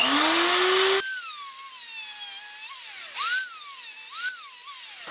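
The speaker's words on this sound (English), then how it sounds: "I think what I'm gonna do is grind the frame a little bit more" An angle grinder cuts into the steel frame of a Kawasaki KX100 dirt bike during frame modification, giving a high whining scream that shifts pitch in short bursts as the disc bites and eases off, close and loud.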